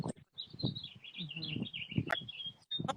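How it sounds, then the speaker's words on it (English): Birds chirping and tweeting repeatedly in bright, high bursts over a low background murmur, fairly close and steady throughout. "I hear the birds chirping."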